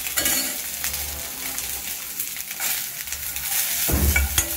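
Vegetables, including green peas, carrots and beans, sautéing for a soup in a hot pan: steady sizzling with a spoon stirring and scraping, and a louder burst of frying near the end.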